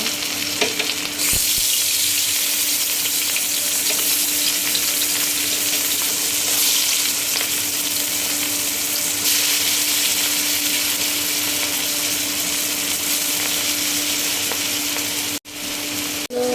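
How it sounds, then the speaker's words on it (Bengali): Steady, loud sizzling of fish frying in hot oil, a dense crackling hiss that continues for the whole stretch with no talking. "সামান্য পরিমাণে তেল দিয়ে দিব মাছ ভাজার জন্য"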